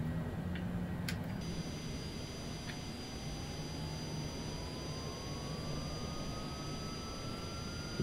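Airliner jet engine spooling up in Microsoft Flight Simulator 2020, a faint steady whine that rises gradually in pitch over a constant rumble, with a few brief clicks early on.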